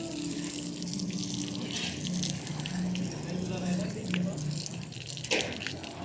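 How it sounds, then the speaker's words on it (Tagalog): Water sprays onto a freshly poured concrete slab at a building site, a steady broad hiss running throughout at moderate level, with a low hum and some background activity beneath it. "Mas maganda po kasi dinidiligan tong slab or yung nabuhusan"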